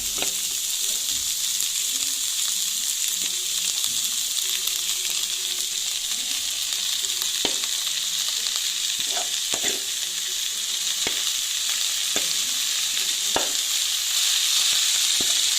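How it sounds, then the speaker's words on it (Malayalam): Chopped spring onion sizzles steadily in a hot pan for a Kerala thoran, a loud continuous frying hiss with occasional sharp stirring clicks and scrapes throughout, no voices. "ഇനി നമുക്ക് അരിഞ്ഞു വെച്ചിരിക്കുന്ന നമ്മുടെ സ്പ്രിംഗ് ഒനിയനും കൂടെ ഇട്ട് കൊടുക്കാം."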